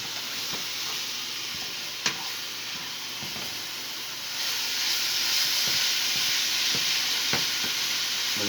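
Lean moose meat fries with onions for a shepherd's pie, a constant loud sizzle and hiss with occasional utensil knocks and scrapes as it is stirred, swelling louder partway through.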